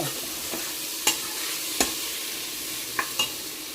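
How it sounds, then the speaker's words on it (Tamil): A ladle stirs rice porridge (nombu kanji with dal and vegetables) in a cooking pot, giving a few sharp scrapes and knocks against a steady low sizzle, close by, with no talk. "லைட்டாக கிண்டி விட்டுக்கிறேன், கீழே பிடிச்சிடாமல் இருங்க"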